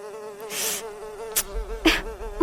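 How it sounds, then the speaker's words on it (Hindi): Mosquitoes buzz around a woman sleeping on the floor in a small room, a close, thin, continuous whine broken by a few louder sweeping bursts. "उसे काफी ज्यादा मच्छर परेशान करने लगते हैं"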